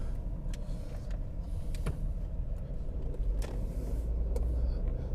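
A manual-transmission car cruising on a suburban road makes a steady low rumble of engine and tyres, with occasional faint clicks and knocks from inside the cabin.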